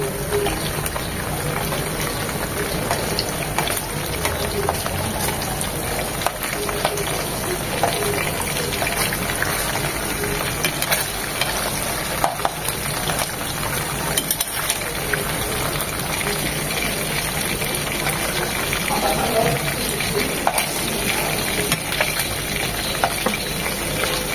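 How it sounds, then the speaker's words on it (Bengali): Small puti fish frying lightly in a pan, a minute on each side, with a steady, close sizzling hiss that runs without a break and no voices. "জাস্ট 1 মিনিট এপিট আর 1 মিনিট ওপিট করে ভেজে নেব, কড়া করে ভাজবো না।"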